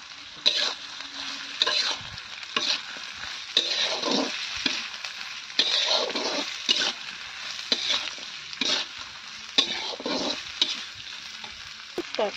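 Dried chilies fry in hot oil in a pan with garlic for a home-made sidol dish, a close crackling sizzle that swells and fades in repeated bursts as the pan is stirred.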